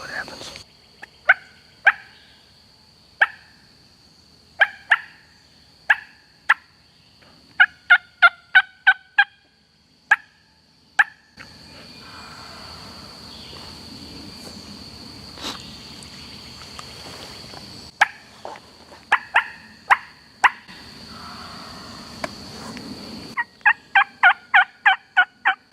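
Wild turkey gobbling on Georgia public land during a spring hunt, with repeated loud rattling gobbles and bursts of quick calls, a stretch of rustling noise in the middle, and a voice speaking in places.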